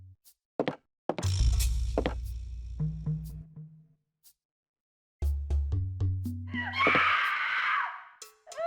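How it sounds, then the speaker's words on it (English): Screams from the next room in the horror game Parasite Eve II, a shrill drawn-out scream among heavy thuds, knocks and low droning tones, with quiet gaps between the louder bursts. "this creepy ass house where all you can hear are these blood curdling screams coming from the"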